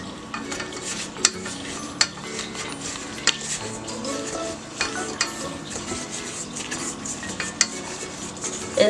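Cheesecake batter being mixed in a bowl, with a steady churning and stirring sound punctuated by sharp clinks of utensil against the bowl, close and continuous.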